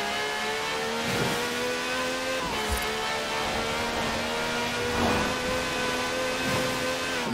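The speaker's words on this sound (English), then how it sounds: "The Stig's warming up the tyres. A good old-fashioned rolling burnout." A car in Forza Horizon 4 does a rolling burnout to warm its tyres, the engine holding a steady, loud, sustained drone with rising and falling pitch and faint tyre squeal.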